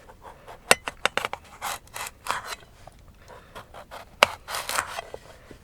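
A knife cuts a potato into wedges outdoors, giving scattered, close crisp slicing and scraping strokes with a couple of sharper snaps, fairly quiet overall.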